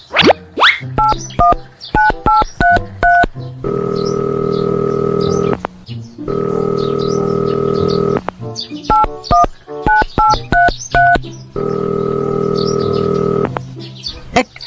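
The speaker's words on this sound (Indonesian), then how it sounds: "Ya udah, saya telepon dulu dah." Telephone keypad being dialed, a quick series of distinct dialing beeps followed by long ringback tones, repeated in several rounds, close and clear with no talking.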